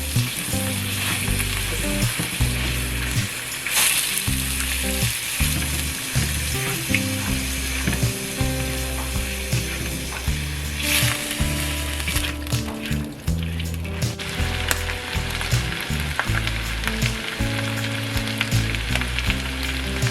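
Thinly sliced chicken sizzles vigorously in a hot pan for Thai basil fried rice, a continuous crackling fry with occasional stirring scrapes, close and without talk.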